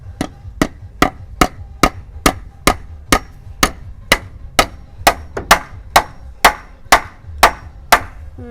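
Steady hammer blows strike nails into wood, about two per second, sharp and loud, each hit ringing briefly before the next.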